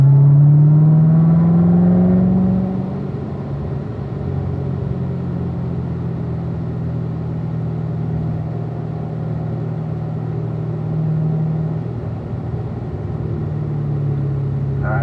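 A car is driven on a track, and its engine rises in pitch through the gears at first, then settles into a loud, steady roar mixed with heavy road and wind rumble that carries on through the whole stretch.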